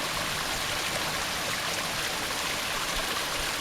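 A crystal clear creek rushes and babbles in a steady, close wash of water with no voices.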